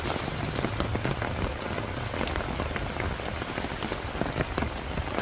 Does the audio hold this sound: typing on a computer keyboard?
no